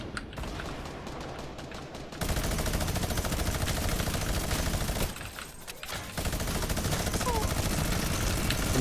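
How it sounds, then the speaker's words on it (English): Rapid sustained gunfire from a minigun in a shooter video game, a dense continuous roar that runs almost the whole time with a short break in the middle, while players talk over it. "And a minigun."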